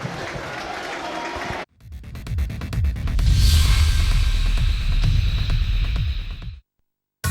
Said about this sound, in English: big cheer as the St Michael's players run out in front of their supporters